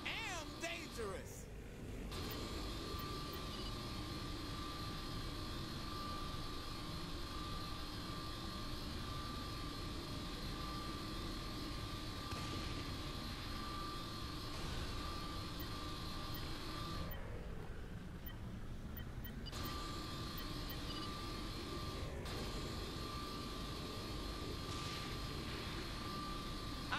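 A VTOL aircraft in Saints Row 3 gameplay drones with a steady engine whine throughout. Brief dropouts interrupt the sound, and talk runs over it.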